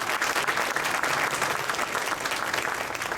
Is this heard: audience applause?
yes